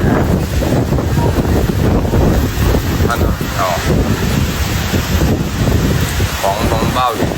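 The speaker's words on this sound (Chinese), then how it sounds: "狂风暴雨，今天出不去了。" Strong wind roars continuously against the microphone with a heavy, rushing rainstorm wash behind it, loud and unbroken, while a person speaks briefly over it.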